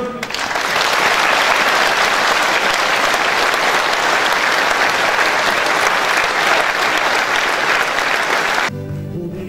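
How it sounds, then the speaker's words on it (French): A crowd at a gala evening marking 100 years of CLAAS and 50 years of a Lagarrigue dealership breaks into long, loud, sustained applause that runs unbroken for several seconds before cutting off abruptly near the end. "je vous demande un tonnerre d'applaudissements"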